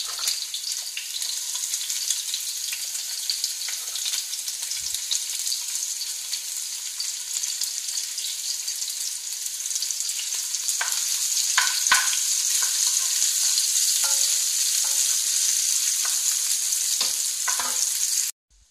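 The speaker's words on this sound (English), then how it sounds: "We just put the onion in a little bit brown also, not so much." Onion fries toward light brown in a pan for chop suey with chicken gizzard and quail eggs: a long, even, hissing sizzle that grows slightly louder midway, with a few scraping stirs near the end before stopping abruptly.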